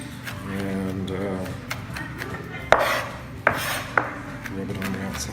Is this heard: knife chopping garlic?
yes